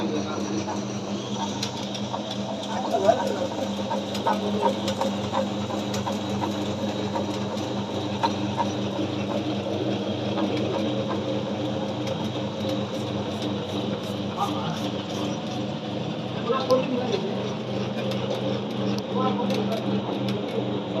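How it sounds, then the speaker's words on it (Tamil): Floor scrubbing machine running steadily with a continuous low motor drone and whirring hum, fairly close and constant throughout, with faint voices in the background. "இதுதான் மிஷின் ஸ்க்ரப்பிங் ஒர்க்கு"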